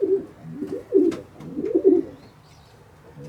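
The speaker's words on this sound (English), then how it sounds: "A cracking wee pigeon that." A young Red-Tooth Johnson cock pigeon coos close by in a loft, giving several soft, throaty coos in quick succession before falling quiet.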